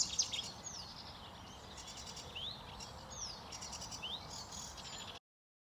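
Treecreeper calls: several thin, high chirps and short rising notes repeat over a steady hiss of background noise, with no voices.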